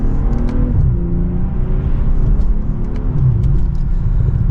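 Engine of a 2024 BMW M340i pulling hard with quick gear shifts, a loud continuous rumble heard from inside the car that briefly dips and rises again, with no talking.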